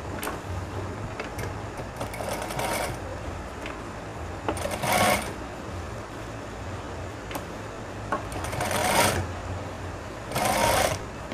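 A sewing machine runs continuously, stitching along an old seam line on a two-tone danton shirt collar, with steady mechanical whirring and several louder bursts of faster stitching, close and alone without talk.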